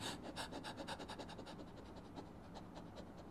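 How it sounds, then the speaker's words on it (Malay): Quick, rhythmic panting breaths, short airy huffs repeating several times a second, close and steady throughout. "anda buat secara laju dan dia akan jadi latihan panting"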